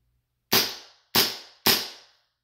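Three loud, sharp reports from an M9 pistol, each with a quick decaying tail, fired in a steady sequence about half a second apart with no talk.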